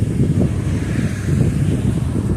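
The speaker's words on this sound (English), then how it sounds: "very windy here, and I haven't been able to find a spot where the wind can be blocked" Steady wind buffeting a microphone between mountains, a continuous low rumbling roar with gusty swells and no other sounds.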